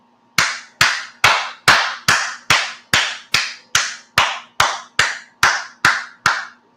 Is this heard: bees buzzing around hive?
no